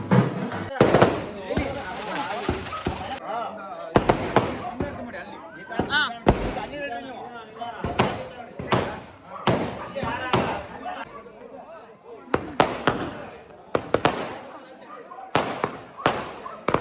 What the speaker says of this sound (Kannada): ಇಲ್ಲಿ ಬಾಯ್ಸು ಪಟಾಕಿ ಹೊಡಿಯೋಕ್ಕೆ ರೆಡಿ ಮಾಡ್ತಾಯಿದ್ದಾರೆ